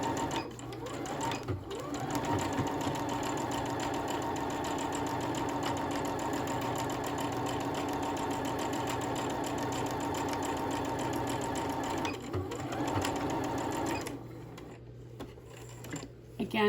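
A sewing machine stitches quilt scraps placed right sides together with a quarter-inch seam, a steady close mechanical whirring run of needle strokes that stops near the end, with a voice talking over it.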